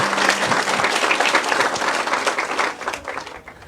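An audience applauds with a dense, steady wash of many clapping hands, loud and close, easing off toward the end.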